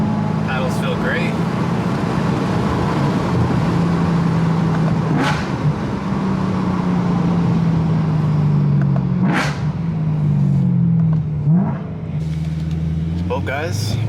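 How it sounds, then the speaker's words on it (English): BMW E90 M3 being driven after a paddle-shifter install, its engine a steady low drone with rising and falling tones through gear changes, heard from inside the cabin alongside a talking voice. "Only thing now is to drive it, make sure everything works."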